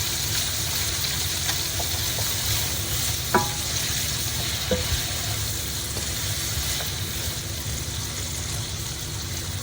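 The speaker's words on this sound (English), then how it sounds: "So we're just gonna saute this a little bit." Onions and carrots sauté in a pan, a steady close sizzle running throughout with a couple of brief utensil scrapes and taps, no voices.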